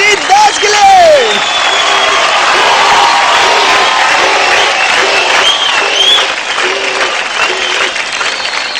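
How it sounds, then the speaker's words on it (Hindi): A crowd applauds loudly and steadily for several seconds, with a few whoops and voices rising above the clapping. "जोरदार ताली हो जाए"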